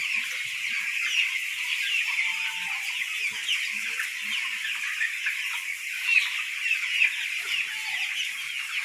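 Poultry chicks gather at a feeding spot on a farm, keeping up a continuous, busy chorus of clucking and peeping, moderately close with no talk.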